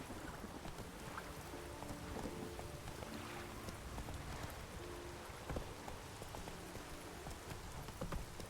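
Hooves of the horse Roach galloping in The Witcher 3, faint and continuous with a soft rhythmic clopping under a dense, rain-like hiss.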